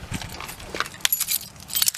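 A replacement driver's-side door lock actuator on a 2002 Honda Civic Si EP3 runs when locked, giving a few quick mechanical clicks and whirring bursts, close up with no speech.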